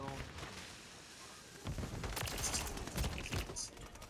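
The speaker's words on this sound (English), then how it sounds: "Stop shooting your guns." Call of Duty gunfire erupts as dense rattling bursts over a steady background hiss, growing louder midway through with clustered close shots.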